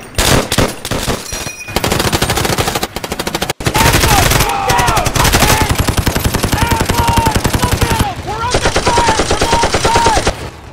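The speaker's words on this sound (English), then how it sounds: "Open fire!" Machine gun fire in a toy army men stop-motion battle comes as dense, loud, rapid bursts that keep going almost without a break, with shouted voices mixed in.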